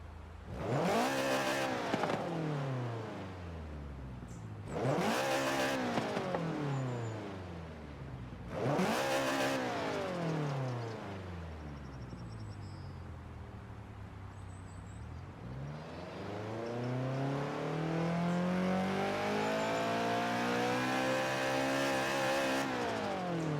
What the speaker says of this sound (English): let's go ahead and rev the engine.